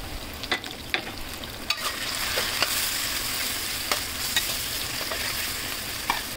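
Onion, green chili, cumin, coriander powder, salt, panch phoron, turmeric and bay leaves sizzle steadily in a pan while a spatula scrapes and stirs, giving sharp clacks over a continuous close frying hiss.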